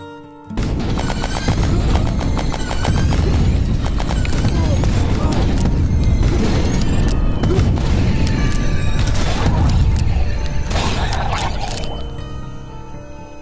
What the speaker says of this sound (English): I used some common household items to build the minigun sound